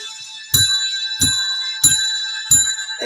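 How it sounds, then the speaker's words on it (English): A ringing bell is struck four times at an even, unhurried pace, each strike loud and close with a bright tone that rings on between hits. "I'm going to hit the bell."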